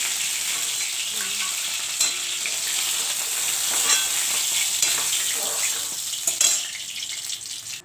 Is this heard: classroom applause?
no